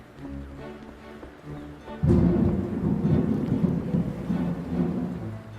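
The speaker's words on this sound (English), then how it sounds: "like it is thunder, and I have no control over that" Thunder rolls outside a home during a storm with rain, rising suddenly into a loud, sustained low rumble that lasts several seconds and slowly fades, with no speech.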